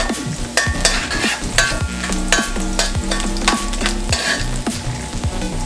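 Onions caramelizing in a pan for Jamaican curry chicken, a continuous close sizzle with repeated scraping stirs of a utensil against the pan at a brisk, uneven rhythm.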